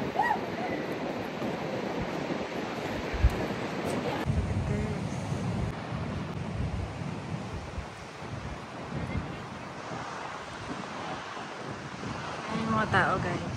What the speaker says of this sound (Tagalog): How powerful the waves are.